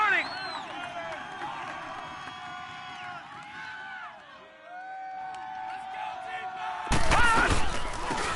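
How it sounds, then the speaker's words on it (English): A football stadium crowd roars and cheers ahead of a big third down, with a broadcaster talking over a swelling wall of noise that jumps louder near the end. "The crowd getting into it as we come up on a big third down."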